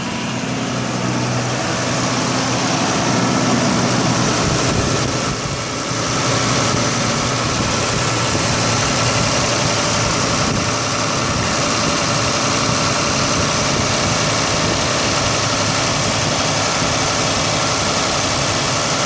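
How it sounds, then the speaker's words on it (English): An Isuzu Rodeo engine idles rough just after being restarted following intake manifold work, a steady, loud, continuous engine drone with vibration that holds on its own with no talking. "It's probably going to idle rough for a little while."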